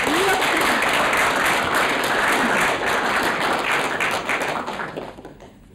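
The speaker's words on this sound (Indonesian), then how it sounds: "Tepuk tangan diberi orang." An audience applauds in a dense, steady burst of clapping that continues strongly before tapering off and fading out near the end.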